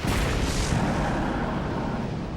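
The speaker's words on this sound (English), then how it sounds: "Then, the massive space gun fires." A massive space gun fires at a launch site, a broad, heavy blast that swells and rumbles at full loudness with no talk over it.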